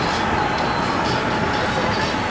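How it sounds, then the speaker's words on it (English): A steady rumbling roar of an old amusement park train ride rolling along, dense and continuous with no clear pauses, heard fairly close. "Pretty cool looking old train ride."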